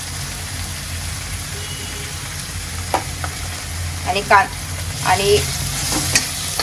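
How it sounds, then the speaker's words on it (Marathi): Turmeric, Kashmiri red chili, chili powder and coriander-cumin powder sauté in a pan for a cluster bean curry, with a steady close sizzle and stirring. Someone talks briefly over it toward the end. "मसाल्यांना पण चांगलं मी परतून घेते"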